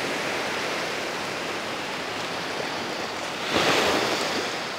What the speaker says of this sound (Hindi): पानी की लहरों की आवाज़ सुबह तक आपके रूम में आती रहेंगी